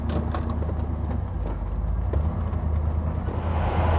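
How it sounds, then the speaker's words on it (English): A 1988 Chevrolet Camaro IROC-Z cruising on the road, a steady low engine drone with road and wind rumble from inside the cabin, loud and continuous without talk. "let's take it for a drive and see how this thing runs."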